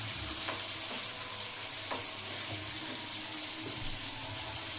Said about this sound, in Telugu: కొద్దిగా ఇట్లా నూనెలో కొద్దిగా ఫ్రై అయిపోగానే స్టవ్ ఆఫ్ చేయాలి.